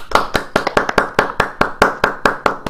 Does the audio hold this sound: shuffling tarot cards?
no